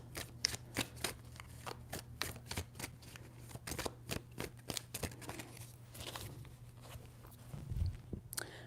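Tarot cards being shuffled, a quick series of crisp riffling flicks and soft slaps repeated steadily close by, with no talking over them.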